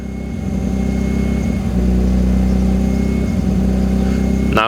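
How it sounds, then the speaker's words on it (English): A car engine that has been overheated and now throws throttle-position and mixture faults, running roughly and revving up and down unevenly, a loud, close, sustained mechanical drone that surges and sags. "now it revs up and down"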